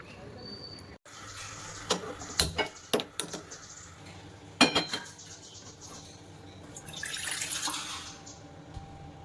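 Water poured into a pot in a home kitchen to make morning tea, heard as a few sharp clinks of utensils followed by a steady, fairly quiet pouring rush near the end, with a voice speaking at times.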